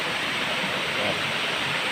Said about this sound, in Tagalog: napakaganda ng ilog dito